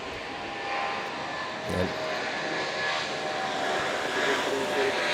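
A large airliner's engines roar at Manila's NAIA airport near runway 24, a steady broad rumble and whine from a moderate distance, with a brief spoken word at the start.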